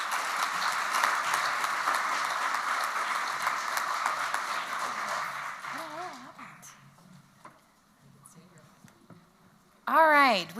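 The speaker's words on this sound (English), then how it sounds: "Can we all get a round of applause for our presenters," Sustained applause from an audience at a regional housing summit fills the first half, then fades into quiet murmurs and a few scattered claps before a voice speaks briefly at the end.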